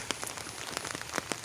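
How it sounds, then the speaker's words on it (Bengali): Rain falling steadily onto floodwater, with scattered distinct drops pattering onto the surface over a constant wash of noise. "তার মানে বৃষ্টি হইতেছে এখনও"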